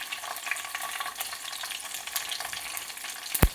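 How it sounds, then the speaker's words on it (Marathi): Cumin and mustard seeds crackling and popping in hot ghee with garlic and curry leaves for dal palak, a dense continuous spatter with sharp pops and a loud clank near the end. "मोहरी चांगली तडतडली की कांदा टाकूया"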